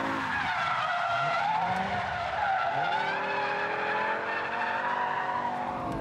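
A race car skids with high-speed understeer on a circuit, tyres squealing in a loud, sustained smear over the roaring engine for several seconds, with no voices.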